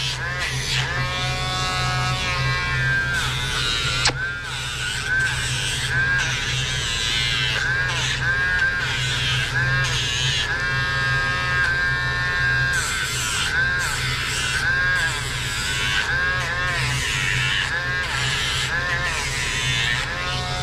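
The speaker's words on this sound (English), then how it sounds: "So the reason I use a Dremel instead of just nail clippers" A Dremel rotary tool grinding an animal's nails, a close, continuous high-pitched buzzing whine that wavers as it presses on and off, with animal bleats and talk mixed in.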